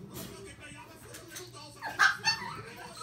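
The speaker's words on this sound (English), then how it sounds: "Are the doggies barking?" Dogs bark and yip close by in two short bursts near the end, over faint background noise and a quiet voice.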